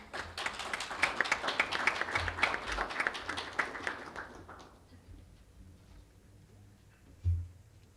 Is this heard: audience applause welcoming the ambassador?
yes